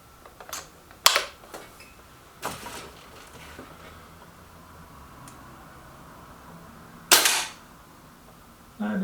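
An Artemis M11 .22 air rifle firing pellets, a few sharp, close cracks spaced seconds apart with quieter clicks and handling noise in between.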